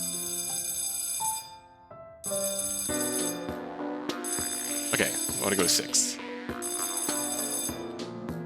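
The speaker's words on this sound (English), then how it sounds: "No patient, no reason for that bell to be ringing." A patient call bell rings insistently in an empty hospital room in a horror video game, repeated electronic ringing tones over eerie background, with a person talking over it.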